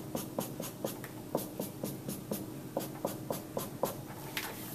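Pen strokes scratch across paper as graph axes are drawn, a steady series of short, rhythmic scribbles at close range with no talking.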